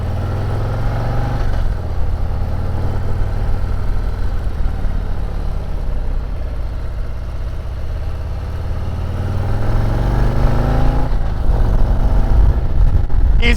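A Harley-Davidson Road Glide ST motorcycle engine idles after a restart, a loud, close, steady low rumble that swells slightly near the end, with no voices.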